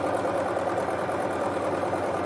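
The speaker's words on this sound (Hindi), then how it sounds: "तो जिगजैग के लिए लेंथ 3 ठीक है, जैसी आपको चाहिए वो उसी हिसाब से सिलाई करेगी।" A Singer Promise 1409 sewing machine stitching a zigzag pattern, a steady, even mechanical whir with a fast repeating rattle, close and continuous, with no talking.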